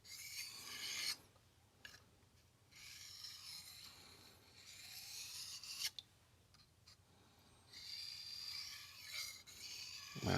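A knife edge is deburred on a 1000 grit sharpening stone, with quiet, close rasping strokes that come in several short bursts and pauses.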